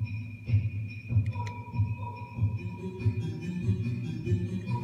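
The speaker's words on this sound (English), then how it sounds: "And this is our drums." Electronic drum samples from an ER-301 module play in a steady pattern, punchy low hits under a sustained synth tone, with a few sharp clicks early on.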